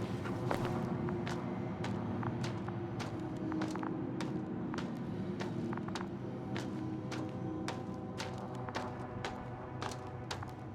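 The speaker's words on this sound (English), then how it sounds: "I have a lead. His footsteps." Footsteps in the video game The Invincible, crossing a dead metal forest: regular, evenly paced steps tap along over a continuous low ambient drone.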